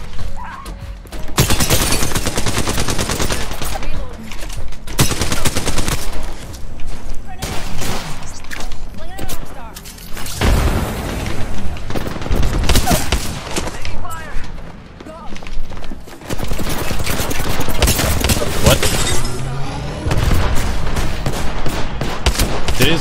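A burst of many lit bombs detonating in a video game, heard as dense, repeated explosive blasts and crackling booms filling most of the span, with voices talking over the chaos.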